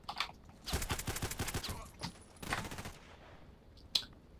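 Rapid shots from a GSH-18 pistol in the shooter Contact Wars, a quick string of sharp cracks in tight bursts, then a lone louder shot after a short pause.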